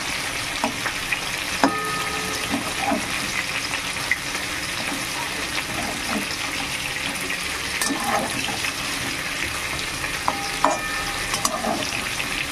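Eggplant slices fry in a pan on low flame, giving a steady gentle sizzle with occasional scrapes and clinks of stirring, close and continuous.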